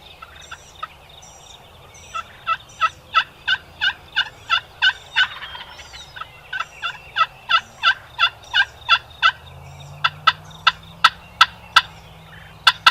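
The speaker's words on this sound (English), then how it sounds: "I heard one of them gobble" Wild turkeys gobble outdoors in a long series of regular, rapid rattling calls, fairly loud and clear over a low steady background rumble, with no talking.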